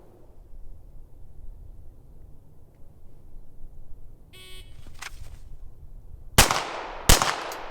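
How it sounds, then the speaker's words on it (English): A shooting range qualification course: a brief electronic start tone sounds, then two loud, sharp Glock 17 pistol shots ring out about a second apart, each trailing a short echo. "On a signal to fire, the shooter has to pivot to their left, draw, and fire 2 more rounds into the body of the target"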